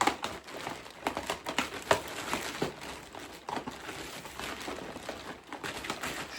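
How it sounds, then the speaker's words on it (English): Plastic DVD cases are shuffled around inside a TK Maxx bag, giving close, irregular clacking and crinkling rustles, a busy stream of small knocks and bag rustle without speech. "all the cases are now in this banging TK Maxx bag. So I'm going to shuffle these around."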